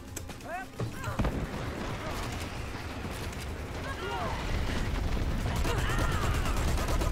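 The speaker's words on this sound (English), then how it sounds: "Someone hit that airstrike real good." Airstrike explosions and gunfire in the online shooter Dirty Bomb form a dense, rumbling barrage of booms and rapid shots that builds steadily louder, with a player talking faintly underneath.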